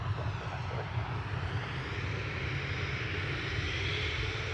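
An airliner at Dublin Airport makes a low, steady engine rumble heard from a distance, continuous and fairly faint throughout, with no voices.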